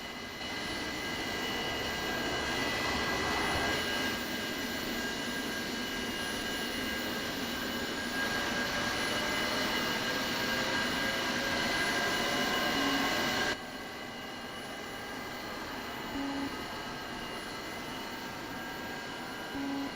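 Simulated Su-35S right jet engine spooling up in the DCS flight simulator, a steady loud turbine whine with rising tonal whistles layered over a broad roar, continuous for the whole stretch before dropping slightly near the end.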